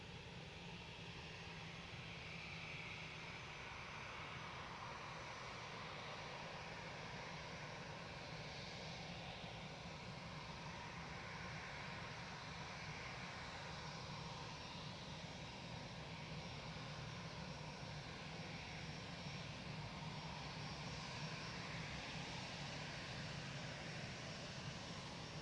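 Steady, distant roar of aircraft engines at Manchester Airport as a plane lines up on runway 23 left, a continuous broadband rumble without change in level.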